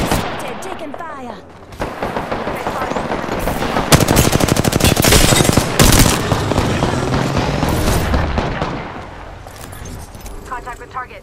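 Apex Legends gunfire erupts in rapid automatic bursts, loud and close, with booming impacts and metallic clatter, as in-game voices speak over the shooting.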